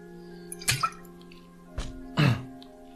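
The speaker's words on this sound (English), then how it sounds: "So I'm going to drink some water real quick." Someone drinking water takes a few separate gulps and swallows, close and distinct, over a steady low hum.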